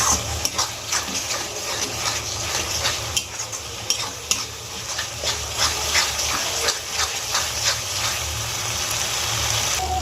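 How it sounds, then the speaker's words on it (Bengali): A Bengali spice paste with cumin powder, Kashmiri chili powder and sugar fries in a pan, giving a steady sizzle broken by repeated scraping strokes of a stirring spoon, with no voices. "স্বাদের জন্য 1 চামচ চিনি দিয়ে ভালো করে মশলাটা কষিয়ে নেব"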